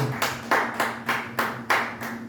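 A church congregation at a Sunday service in Montreal claps in a steady, rhythmic beat, six or seven even handclaps in a little over two seconds, moderately close with a slight room echo.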